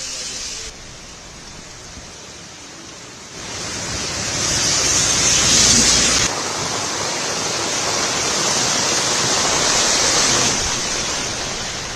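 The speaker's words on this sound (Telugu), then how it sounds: "దీంతో వరద నీరు రాజౌరి కొత్త బస్టాండ్లోకి పోటెత్తింది." Rushing flash flood water pours into a bus stand in Rajouri, Jammu and Kashmir, a dense, steady broadband roar that swells louder midway and keeps churning without a break, close and continuous, with no voices.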